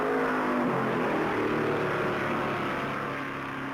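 Stock cars roaring away at the start of the 1964 Darlington Southern 500, a dense loud wall of engine noise from the packed field, steady and overwhelming throughout.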